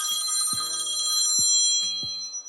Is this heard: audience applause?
no